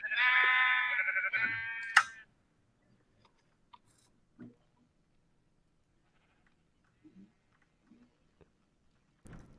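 A Minecraft sheep lets out a bright, wavering bleat up close, followed by a short sharp click, then near-silence with a few faint soft game taps and bumps.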